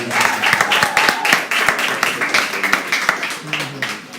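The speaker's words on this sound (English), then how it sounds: "Give her a bigger round of applause." An audience at a regional stakeholders' conference claps steadily, with dense, lively applause throughout, close and loud, tapering slightly at the end.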